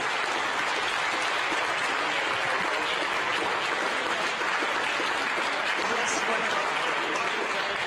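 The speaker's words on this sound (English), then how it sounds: "The James Webb Space Telescope, amidst applause here in the Mission Control Center, now taking its first steps in pursuit of cosmological discovery." Sustained applause fills the Mission Control Center at the James Webb Space Telescope's separation from its launch vehicle, a dense, steady wash of clapping held at an even level throughout.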